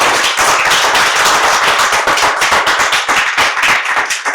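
Hearty applause from an audience at a Gujarati literary event, many hands clapping in a dense, sustained burst that fills the room, loud and close throughout with no voices over it.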